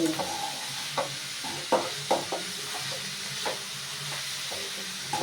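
Fried rice ingredients sautéing in a pan: a steady sizzle and hiss with scattered scraping clicks from stirring, close and moderately loud, no talking.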